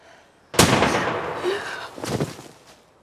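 A sudden loud gunshot blast rings out and decays with a rumbling echo, followed by a second softer burst.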